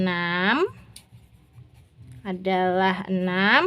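Pen scratching on paper while working out an eighth-grade math problem on dice totals, a faint, brief stretch of writing between stretches of close talking.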